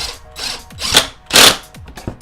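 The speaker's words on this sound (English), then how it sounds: "your whole hand is now guiding the entire drill, and it just goes in" A power drill drives into wood in two short, loud whirring bursts, each a second or less, with quieter handling rubs between and after them.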